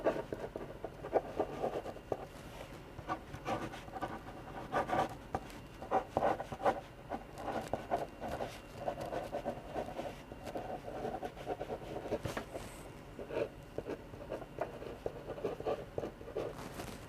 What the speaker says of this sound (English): Just testing whether you can write over the colors and still read it.